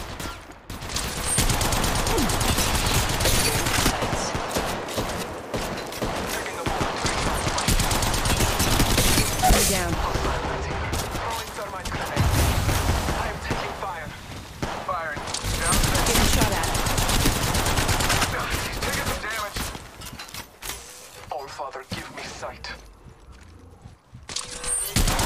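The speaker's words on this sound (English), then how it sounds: "Shots fired at me." Bursts of automatic gunfire from Apex Legends Mobile rattle loudly and nearly nonstop in dense fusillades with brief lulls, and game voice callouts are heard under the shooting.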